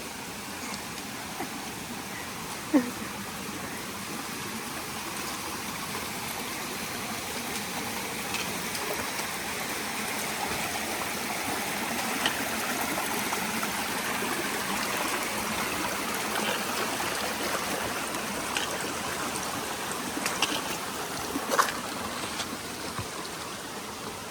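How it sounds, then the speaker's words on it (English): Water from a river at an Appalachian Trail crossing flows in a steady, close rushing trickle that swells slightly midway, with no talk over it. "River crossing."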